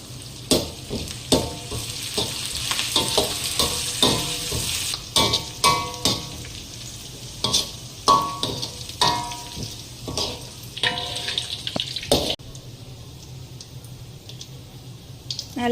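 Onions and curry leaves sauté in a pan for a coconut urad dal appam dish, an even frying hiss broken by repeated spatula scrapes and taps against the pan; no speech.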